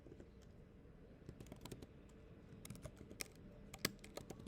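Quiet, irregular typing on a computer keyboard, with scattered key taps that bunch into short bursts and grow a little busier toward the end, close to the microphone and without any talking.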